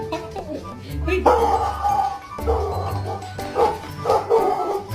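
A dog barks and yips in repeated bursts close by outdoors in snow, mixed with people talking throughout.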